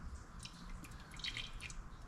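Oil drains from a removed Wix oil filter taken off a 670 hp small-block 1964 Buick Special, heard as faint, irregular drips and trickles with no voices.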